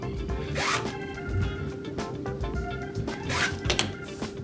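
A rotary cutter slices quilting fabric into 6-inch squares for half-square triangles, a run of short close zipping cuts and rasps against a steady background hum, with no talking.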